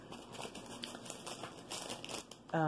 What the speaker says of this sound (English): I'm rustling the plastic, and I hate rustling plastic.